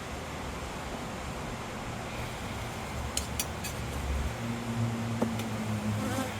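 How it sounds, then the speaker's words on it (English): Agitated honeybees buzzing around an open hive during an inspection, a steady, dense drone close to the listener, with a low hum rising slightly toward the end. "The bees are a little agitated with me."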